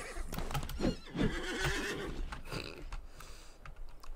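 A horse in the video game Disney Infinity (The Lone Ranger) whinnies loudly twice in quick succession, followed by snorting and hoof clip-clops, all fairly close with no talking.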